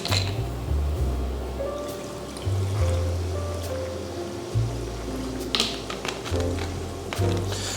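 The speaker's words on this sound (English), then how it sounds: "pour in our soda water" Soda water poured into a bubble tea cup over ice, with a steady low liquid stream and faint clinks from the ice across the pour.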